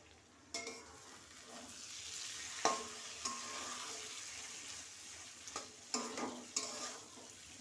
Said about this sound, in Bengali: চলো ওদিকে মাছ ভাজা বসিয়ে দিয়ে এসছি।